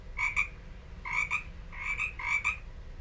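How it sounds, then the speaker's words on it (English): Several bursts of frog croaking, each a quick double pulse, repeating at a steady pace over a low background rumble. "This is frog sound, guys."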